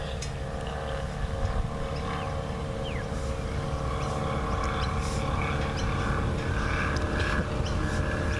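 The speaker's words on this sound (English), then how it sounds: "It's a very tinny sounding aeroplane going over the top of us." A light aircraft with a tinny-sounding engine passes overhead during a croquet match outdoors, giving a continuous steady drone with a faint, thin whine. It stays fairly loud and even throughout.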